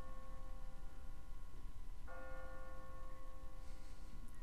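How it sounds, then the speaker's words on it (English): An automatic church bell on a timer rings in The Walking Dead video game: a single faint, distant strike whose hum lingers and slowly decays. "No one's ringing that bell. It's automatic. On a timer."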